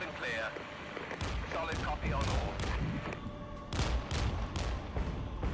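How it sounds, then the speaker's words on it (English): Rocket artillery in the Regiments video game fires and lands in a rapid series of sharp booms and thuds, repeated bursts at irregular intervals, loud under steady talk. "With some rocket artillery coming in"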